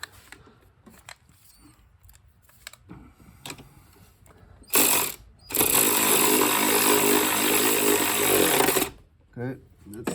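A power ratchet whirs in a loud, sustained burst of about four seconds while tightening the battery hold-down on a Mercedes-Benz C300, following quieter clicks and handling noises, with a short second burst near the end.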